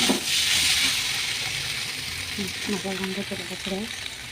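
Water is poured into a hot pan of frying pangas fish in masala, giving a sharp steam hiss at the start that fades into a softer sizzle while someone talks over it.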